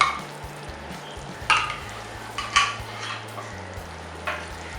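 Tamarind pulp and flour mixture stirred into a dry salted surmai fish curry in a pot, with a spoon scraping in a few distinct strokes over a steady low simmering hum, no talking.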